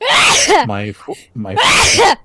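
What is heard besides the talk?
sneeze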